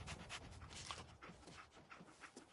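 A dog companion in the video game Fallout 4 pants in quick, soft, rhythmic breaths, close and alone throughout the short stretch.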